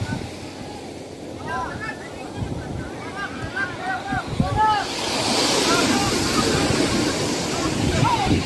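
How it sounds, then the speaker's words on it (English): Ocean surf rolls and breaks on a beach as the waves build higher, a steady wash that swells louder in the second half, with wind buffeting the microphone and short squeaky calls above. "You can see these waves are really getting higher."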